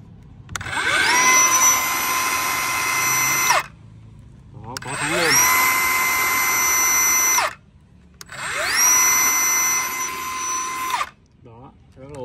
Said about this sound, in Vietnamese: Đây, máy cắt gỗ nha.